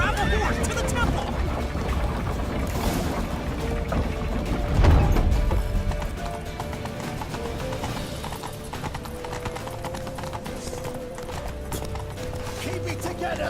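Horses gallop in The Witcher 3 video game: rapid, steady hoofbeats pound throughout, with a whinny partway through and a character shouting over the chase.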